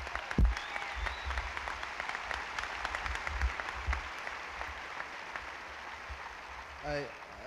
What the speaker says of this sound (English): please give yourselves a round of applause for such great support.